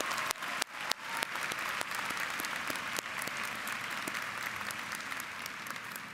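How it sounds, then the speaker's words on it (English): Commencement audience applauds honors candidates at a university graduation ceremony, steady dense clapping from a large crowd filling the hall, with a few louder close claps near the start. "Will the audience please join me in applauding these honors candidates?"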